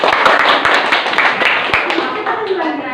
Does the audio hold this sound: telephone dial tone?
no